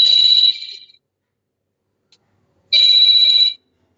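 A mobile phone rings during a classroom lecture, two loud electronic trilling bursts with a brief gap between them, near and clear, no voices over it.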